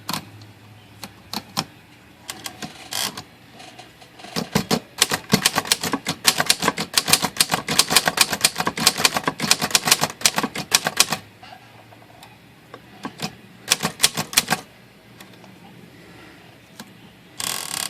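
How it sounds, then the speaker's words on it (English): An Underwood typewriter about 80 years old, freshly repaired, types in bursts of sharp mechanical clacks with ratcheting carriage sounds, fast rattling runs separated by quieter pauses, close and without talk. "let's see how she types"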